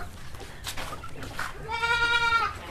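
A goat bleats once, near and fairly loud, toward the end after some faint rustling and background noise; the animal is a lame goat that has started standing again.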